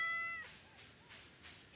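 A cat meows in the video game Stardew Valley, a single clear tonal mew at the start followed by soft farm ambience, fairly quiet and alone without talk.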